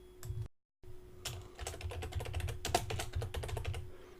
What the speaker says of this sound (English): type social media there, click update